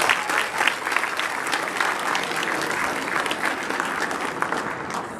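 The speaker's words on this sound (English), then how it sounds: "could you please give Jim a round of applause for being here?" The crowd at a softball hall of fame induction ceremony gives a guest a round of applause. Thick, sustained clapping from many hands stays fairly even and close for about five seconds.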